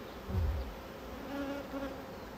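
Honey bees buzzing around an open beehive during an inspection, a dense, agitated drone that swells briefly louder near the start and stays close and continuous.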